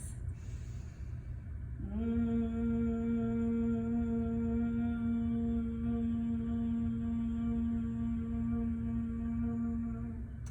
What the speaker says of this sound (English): It's going to sound like a buzzing bee.